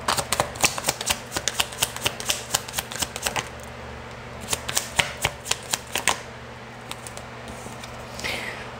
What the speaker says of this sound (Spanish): Vamos a poner estas cartas.